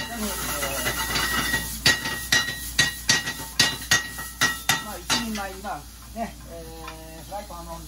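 Chicken and onion frying in a very hot pan for omurice, with a steady sizzling hiss broken by a run of sharp metallic clanks of a utensil against the pan, and music-like tones over the final seconds.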